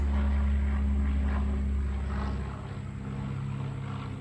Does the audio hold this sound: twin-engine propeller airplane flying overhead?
yes